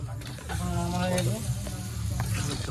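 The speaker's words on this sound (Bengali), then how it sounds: "এই কড়াইতে মাংস যাচ্ছে। বাস কড়াইয়ে মাংস চলে গেল।" Meat sizzles loudly in a hot wok at a midnight picnic, a continuous crackling hiss with stirring scrapes, while a voice talks faintly underneath.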